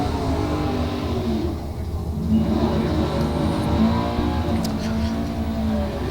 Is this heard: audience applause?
no